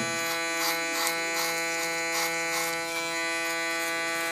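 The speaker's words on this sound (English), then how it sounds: "Use my clipper as a comb again." An electric hair clipper trims hair with a steady buzzing hum, its tone pulsing slightly as the blades pass through hair, close and fairly quiet, with no talking.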